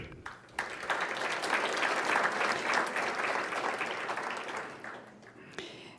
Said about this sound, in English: I'm maybe going to ask that we save the applause for the end.